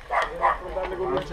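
A dog barks about four times in a quick, even rhythm, close by, with a voice talking over the barks.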